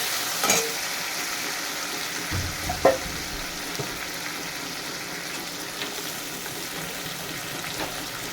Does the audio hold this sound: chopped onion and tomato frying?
yes